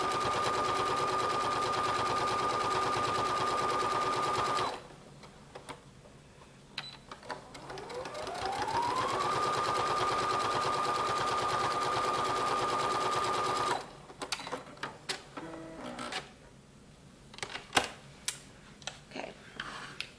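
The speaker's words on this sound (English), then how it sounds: "And then sew right down it." A sewing machine stitches rag quilt squares in a loud, steady rapid whir, pauses while fabric is handled with soft clicks and rustles, then runs again before stopping for more handling noises.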